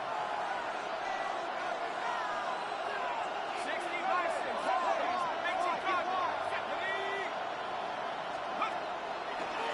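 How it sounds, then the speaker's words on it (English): A football stadium crowd at a Colts regular-season game roars steadily before a third-down play, a diffuse, sustained cheer that swells slightly midway, heard under a commentator's voice. "This crowd into it now as we get to third down."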